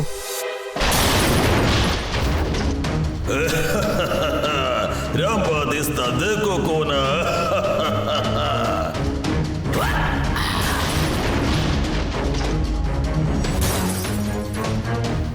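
A cartoon explosion in a kids' animated adventure, a loud booming crash with debris and crashing effects that sustain after an abrupt start, mixed with music and character voices.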